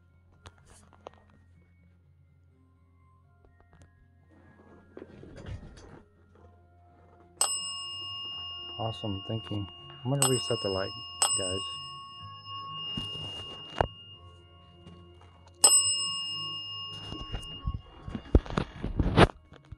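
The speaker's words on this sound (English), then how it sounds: "Thank you for ringing the bell for us." A small bell rings out in several sharp, ringing dings spaced a few seconds apart, loud and close, with a person speaking briefly near the end.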